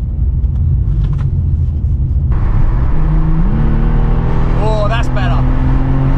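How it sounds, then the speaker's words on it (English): A Porsche with a Tiptronic automatic gearbox accelerates, its engine drone rising in pitch through the gears as road rumble swells, with a person speaking briefly inside the car. "I've never driven a Tiptronic Porsche before"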